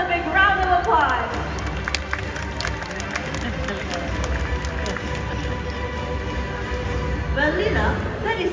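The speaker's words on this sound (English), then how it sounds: "Let's give Nelson a big round of applause." An audience applauds at a raptor show at Birds Paradise, Singapore, with steady clapping throughout, a few cheers in the crowd and a presenter's voice rising over it at the start and end.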